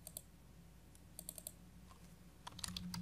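Computer keyboard typing while a message is entered into a text box, quiet scattered key clicks that cluster into a quicker burst near the end, over a low steady hum with no talking.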